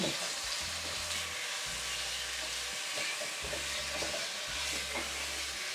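Chicken slides into a hot pan and sizzles loudly and continuously, with a low rhythmic rumble of a burner or stirring underneath, close and steady throughout.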